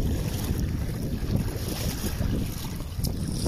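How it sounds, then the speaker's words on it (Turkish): Gusty wind on a boat near Paşalimanı Island buffets steadily with a rushing hiss and low roar, mixed with water sloshing around the hull, loud and close. "sağanak şeklinde rüzgar var"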